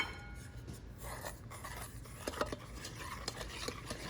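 Rice flour is stirred into thin coconut milk in a pan, giving quiet rubbing and scraping strokes with a few light clicks, faint and close.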